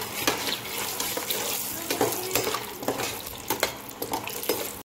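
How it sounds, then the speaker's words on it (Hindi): Cashews and raisins fry in a pan for an iftar meal, a steady loud sizzle broken by repeated scraping and stirring clatters. "यहाँ पे तो मैंने कर दी काजू फ्राई और ये हो रही है किशमिश"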